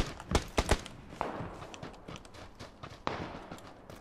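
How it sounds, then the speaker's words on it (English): Footsteps in PUBG, a quick run of sharp, close thuds near the start, then fainter, irregular steps and scuffs continuing at a lower level with one more distinct thud later, no talking. "I hear a lot of footsteps."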